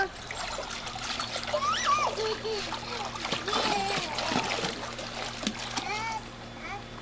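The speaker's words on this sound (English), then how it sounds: "Yeah, splash." Water splashes and dribbles in a swimming pool, with irregular splashing and trickling close by as children talk and squeal over it throughout.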